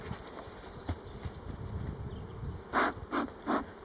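Honeybees buzz at a beehive during an early spring inspection, a faint steady drone of wings with a few louder bursts near the end.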